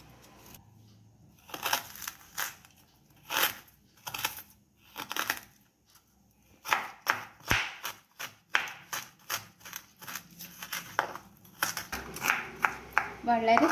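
A knife finely chops a cooking ingredient for parippu vada, making sharp, irregular cutting taps that speed into a quicker rhythm of close, crisp strikes on a board.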